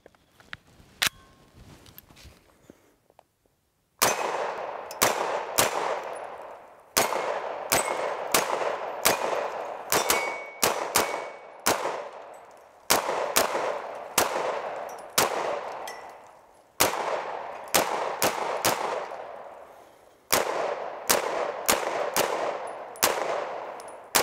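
A Century Arms AP5-P MP5 clone pistol firing 124 grain rounds outdoors, loud sharp shots in rapid strings and bursts with short pauses between groups, after a few quieter clicks and handling sounds at the start.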